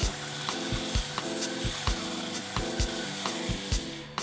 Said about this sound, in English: I moved on to cleaning up the faces with the sanding belt